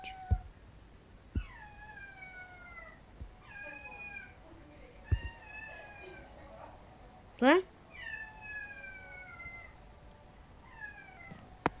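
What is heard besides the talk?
cat screaming in Stick War Legacy video game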